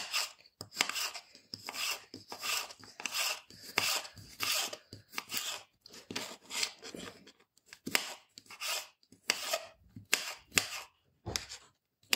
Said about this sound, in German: Wir fangen einmal an, indem wir die Zwiebel und den Knoblauch schälen und schneiden.